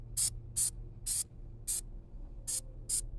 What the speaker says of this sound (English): see, like I'm spraying it